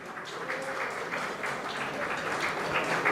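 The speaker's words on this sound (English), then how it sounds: "You can hear the applause on the other board." Faint, distant applause rises from spectators at a neighbouring board during an India versus Sri Lanka carrom match, a low steady patter of clapping heard from across the hall.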